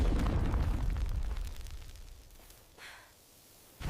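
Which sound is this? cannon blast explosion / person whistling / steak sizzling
cannon blast explosion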